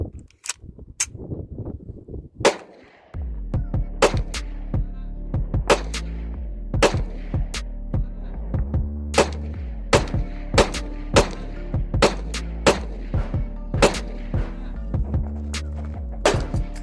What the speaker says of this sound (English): let me go ahead and load up some shots, take some shots